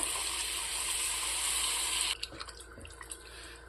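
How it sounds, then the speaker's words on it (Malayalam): Beef juices pour steadily into a pan in a continuous rushing stream for about two seconds, then stop, leaving a few soft clinks and scrapes. "ഇതിന്റെ വെള്ളം മാത്രം ഒഴിച്ചു കൊടുക്കാവേ"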